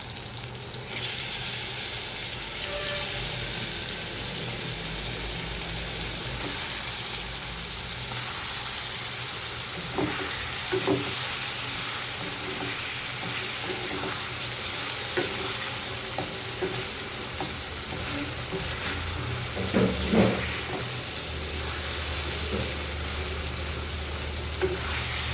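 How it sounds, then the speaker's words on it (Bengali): Rohu fish going into a pan of fried onion and cooked-down spices, a continuous close sizzle with occasional stirring scrapes and soft clatters throughout. "তো এখানে পেঁয়াজ ভেজে মশলা কষায় নিলাম। এখন হচ্ছে এখানে মাছগুলো দিয়ে দিব"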